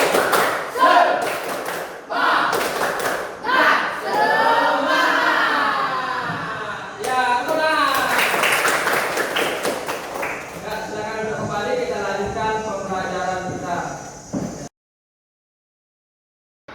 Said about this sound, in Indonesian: Ya, kita tepuk semangat.